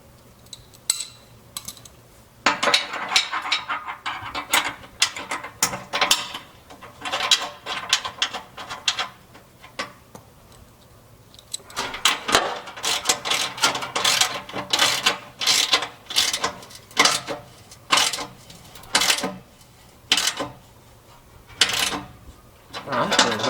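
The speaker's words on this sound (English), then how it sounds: "You thread the bolts through the outside, and through the slots you can get to the nuts to tighten them up." Rapid ratchet clicking tightens the nuts on the bolts of a Jeep JK rear bumper and tire carrier, coming in repeated bursts of ratcheting strokes separated by short pauses, close up and fairly loud.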